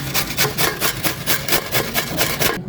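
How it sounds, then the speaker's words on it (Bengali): Wild taro (bish kochu) is scraped on a hand grater in quick, even rasping strokes, about ten loud close rubs in a steady rhythm that stop abruptly at the end. "এখন এই ঘষুনি দিয়ে মানে ঘষে ঝুরি করে নিব"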